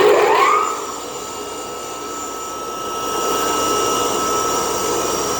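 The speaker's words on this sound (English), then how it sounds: "Let me turn the blower back on" A blower on an ozone destruct system for an ozone water system spins back up, a rising whine settling into a steady loud mechanical drone with a faint tonal hum, close and unbroken, no voices.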